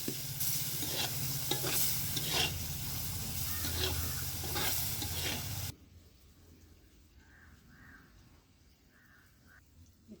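Curry with milk frying and being stirred in a pan, Jaffna-style pepper dish, loud steady sizzle with scraping stirs for about six seconds, then cutting to a much quieter low bubbling with faint clinks.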